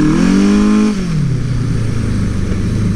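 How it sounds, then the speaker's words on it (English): A Suzuki GS850 scrambler motorcycle with clutch slippage revs close up, its engine note holding high for a moment and then sliding down to a lower, rough idle rumble. "We do have a little clutch slippage"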